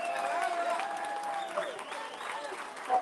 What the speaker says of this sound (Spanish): ¡Que se siente el aplauso!